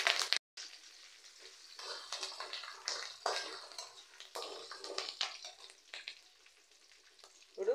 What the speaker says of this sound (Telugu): కొద్దిగా వేగనిచ్చి కరివేపాకు వేసుకుంటాము